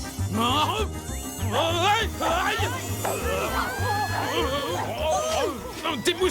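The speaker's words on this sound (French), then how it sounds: "Des moustiques grinçants!" Cartoon mosquitoes give off a thin, high whining buzz that weaves over busy music and excited character voices, with shouting and chatter throughout.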